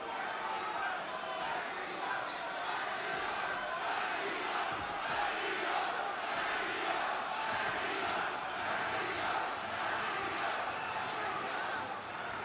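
A wrestling arena crowd rallies behind Jonathan Gresham at a Ring of Honor Supercard event in Dallas, Texas, with a continuous roar of cheering and chanting and a commentator talking over it.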